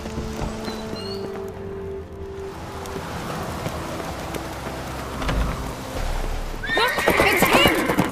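A horse in The Witcher 3 whinnies loudly near the end, following several seconds of hooves clip-clopping under steady rain, with a low musical drone in the background.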